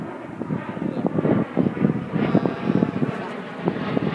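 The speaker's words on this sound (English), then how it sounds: "Hang on just a second for the airplane to go over." A steady low engine drone of an aircraft passing overhead, with wind rumble and brushy broadband noise throughout, no voices.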